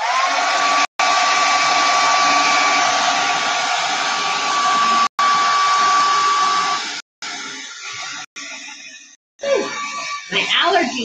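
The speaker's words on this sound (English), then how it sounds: "I'm going to take my blow dryer to this again" Blow dryer running close up while drying a vintage truck craft piece, a loud continuous whirring roar with a steady whine, briefly cut off several times near the end before restarting.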